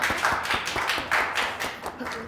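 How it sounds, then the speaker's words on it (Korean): Scattered, light handclaps follow a short bit of singing, a few people clapping quickly and unevenly for a couple of seconds, close by and mixed with voices. "노래 부르고 박수 받아본 적 없잖아요"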